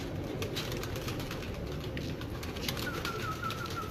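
Pigeons kept on a rooftop in Mirpur, with steady outdoor noise throughout and soft bird calls and cooing scattered across the few seconds, plus a faint high repeating chirp near the end.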